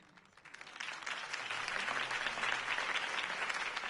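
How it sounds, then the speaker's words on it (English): A crowd in a Batman video game applauds, the clapping swelling quickly from a few hands into sustained, dense applause heard at a slight distance. "If only Mr. Wayne, my campaign's largest backer, could have heard that applause"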